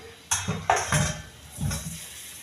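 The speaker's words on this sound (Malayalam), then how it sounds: "ഈ പാത്രം കൂടി കൈയോടെ ഞാൻ കഴുകി വെക്കാം" A cooking pot washed by hand at the sink, a few sharp metallic clanks and scrapes close by, spaced irregularly, with no talking.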